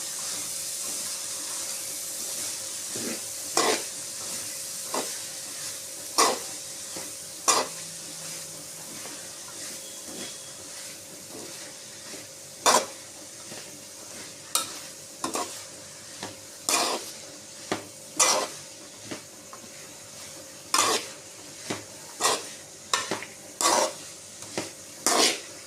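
An egg mixture is sautéed and stirred in a pan for a Burmese egg chicho, giving a low background sizzle punctuated by frequent sharp scraping and clinking strokes at an uneven rhythm, close by, with no voices.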